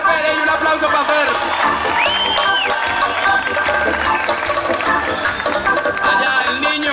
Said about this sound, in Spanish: Fer, Fer, Fer, y un aplauso para Fer.